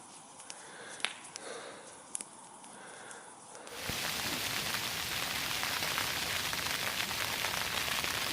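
Rain falls on a camping site, starting as a quiet patter with a few sharp taps, then abruptly swelling into a loud, steady, close downpour that continues to the end with no talking.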